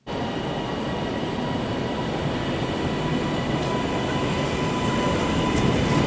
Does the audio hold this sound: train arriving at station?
yes